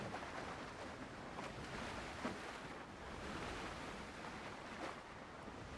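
A small boat pounds over rough water and larger waves, with steady broadband wash and wind noise buffeting the microphone, rhythmic surges of spray and hull impacts, no talking.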